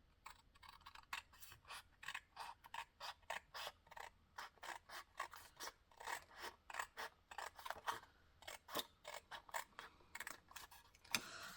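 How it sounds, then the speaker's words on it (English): Scissors cut slowly through paper while a Dollar Tree craft gift is made, sounding as a fast, even run of crisp snips, close but fairly quiet, with no talking. "you can also do this just with your scissor and take your time and get a nice clean"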